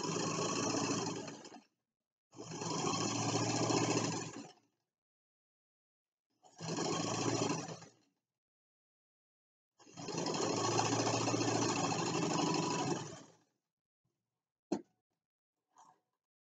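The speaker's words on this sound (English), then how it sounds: "Make sure your seams are open as you sew over them." A sewing machine stitches over the seams of a pincushion in four loud, close running bursts separated by silent pauses, ending with a couple of faint clicks.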